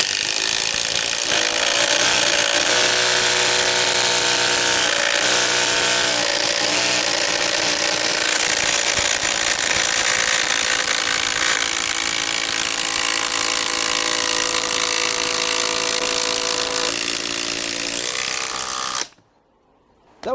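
A Makita high-torque impact driver sinks a 300 mm screw into wood, a loud continuous hammering buzz whose pitch shifts as the screw bites, running for most of the clip before stopping abruptly near the end.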